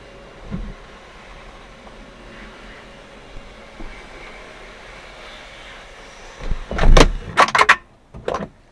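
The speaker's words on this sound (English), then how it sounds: "That clunk you heard then, that was the clunking noise it was making." A Fiat 500C convertible roof closing, a quiet mechanical whir followed by a cluster of loud, close clunks and knocks near the end.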